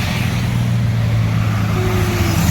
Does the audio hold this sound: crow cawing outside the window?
no